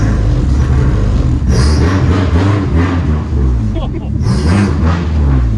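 A Dodge Neon SRT-4 with heavy modifications pulls away, its engine rumbling loud and close with rising revs and a steady low drone, while people talk over it.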